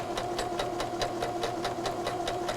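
A sewing machine stitches fabric guided with a stiletto along the presser foot, its needle running in a fast, even rhythmic whir with a steady hum underneath.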